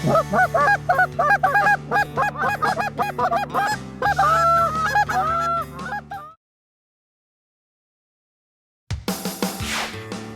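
Geese honk loudly in a dense, overlapping chorus for several seconds during goose calling, then silence, before another burst of honking returns near the end.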